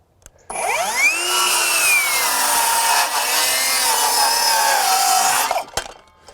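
A Metabo HPT 18V MultiVolt 7-1/4" cordless circular saw on a 4 amp hour battery bevel-cuts across wood: a sharp rise into a loud, sustained whine lasting about five seconds, then a quick wind-down.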